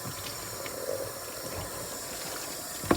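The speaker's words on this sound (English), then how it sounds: "So what we'll do is we'll wash the ribs," Tap water runs in a steady, fairly faint rush while short ribs for rib tips are washed under it, with a brief knock near the end and no talking.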